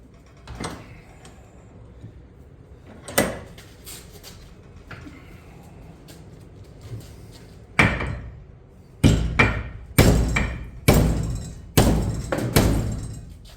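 Hammer blows strike 5160 steel with sharp ringing clangs, a few scattered at first, then several heavy hits in quick succession.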